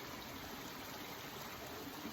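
Steady running water rushes and burbles continuously in a small stream along the Dipsea Trail near Stinson Beach, California, with an even hiss and no other sounds.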